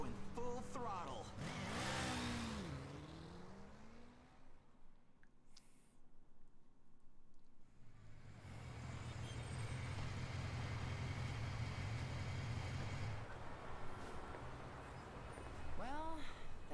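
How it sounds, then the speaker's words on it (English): A car driven at full throttle in 13 Sentinels: Aegis Rim, with a rising engine roar after a short lull that holds as a loud, steady rumble, and voices talking at the start and end. "Just hang on tight. We're going full throttle."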